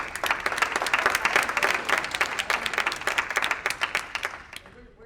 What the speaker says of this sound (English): this person to my left deserves a huge round of applause for their work that she did